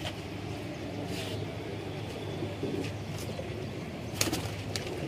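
Pigeons in a loft of long-bodied, high-flying show birds coo softly at steady ground level, with occasional brief chirps and a sharper flutter or peck near the end, no talking.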